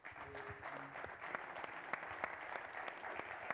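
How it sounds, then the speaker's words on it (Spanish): Audience at an agricultural talk on livestock and pasture production claps for speaker José, a soft, steady round of scattered handclaps from a moderate-sized crowd, heard somewhat distant and faint. "un aplauso para José"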